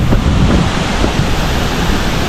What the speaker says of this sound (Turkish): Şelale de şu.